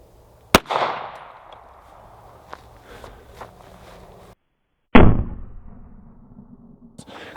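Two sharp, loud 9mm gunshots fired with Hornady Critical Duty 124 grain ammunition, spaced several seconds apart outdoors. Each crack has a lingering echoing tail, and faint footsteps and handling noises fall in between.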